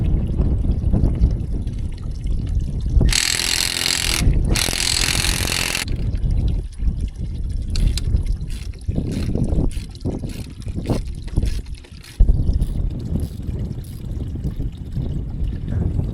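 A repaired water tank fills with running water, a steady trickling pour heard up close, broken by two brief loud rushing bursts early on and by scattered clanks and knocks throughout.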